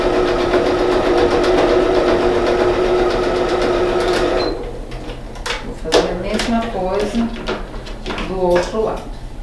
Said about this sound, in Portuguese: vou passar só uma costura